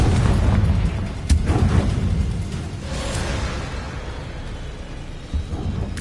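A Confringo fire spell blasting in Hogwarts Legacy: a loud, rumbling burst of explosions that fills the whole stretch, with a sharp crack near the start and another near the end.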